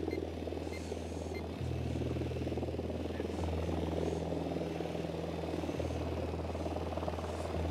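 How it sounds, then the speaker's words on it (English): A helicopter's rotor and engine drone steadily in the Ghost Recon Wildlands video game, a continuous throbbing hum that shifts pitch a couple of times, with no talking. "We need that chopper."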